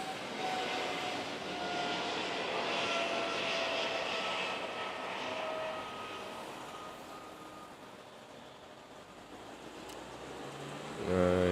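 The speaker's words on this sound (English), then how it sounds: "Nice smooth takeoff into the sunrise." An airliner takes off from the runway at Manila's NAIA airport, its jet engines producing a broad roaring rumble that stays strong at first and then gradually fades as it climbs away.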